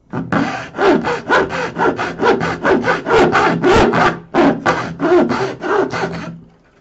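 A hand saw cuts through wood toward a marked line, steady rhythmic rasping strokes, loud and close, about twenty back-and-forth passes with a brief pause near the end.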